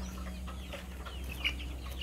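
Soft clucking from chickens nearby, brief scattered calls over a low steady background hum.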